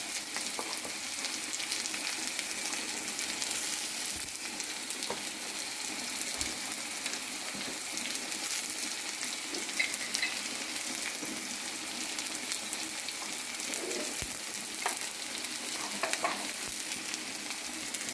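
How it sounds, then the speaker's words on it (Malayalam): Grated coconut and onion sauté in a pan after mustard seeds, a loud, continuous hissing sizzle with occasional soft spoon scrapes and pops, close and unbroken throughout. "ഞാൻ ഈ മുളക് അല്ല തേങ്ങ ഉള്ളി ചെറുതായിട്ടൊന്ന് വഴറ്റട്ടെ"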